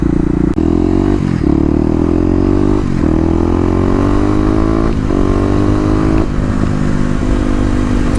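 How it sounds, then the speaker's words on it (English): Kawasaki KLX250 dual sport motorcycle revving its throttle close by, a loud engine whose pitch climbs in repeated surges with brief drops between them, some clatter mixed in, no talking. "There we go, 250 power right there. On-demand throttle response."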